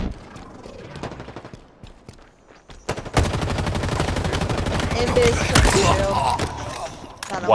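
Gun in Halo Infinite fires in sustained rapid automatic bursts, loud and close, after a sparser stretch of scattered shots, with voices talking underneath.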